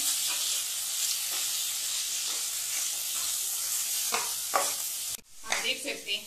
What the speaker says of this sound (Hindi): सभी सामग्री को हम अच्छे से मिक्स कर लेंगे।